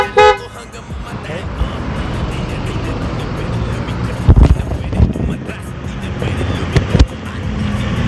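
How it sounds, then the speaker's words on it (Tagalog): A 71cc black stand-up urban scooter sounds its horn outdoors in a loud short toot, followed by steady engine and wind noise with a few sharp knocks and bumps later on. "Baka lakas ng busina"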